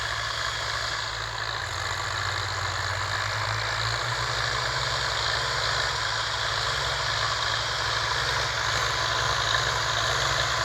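A Ford 4560 tractor's diesel engine idles steadily throughout, a close, even low rumble with a constant hum and no talking.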